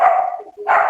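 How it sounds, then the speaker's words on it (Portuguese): Dogs barking nearby, two loud sharp barks about half a second apart, with no voices over them. "Os cachorros já estão dando parabéns aí, ó."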